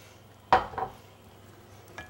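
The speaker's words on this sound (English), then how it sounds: "What I'm going to do is put the lid on here and let this cook for a little 5 to 10 minutes." A lid set onto a cooking pot of dhal and seafood curry, a sharp metallic clank followed by a smaller rattle, then a faint tap a moment later in a quiet kitchen.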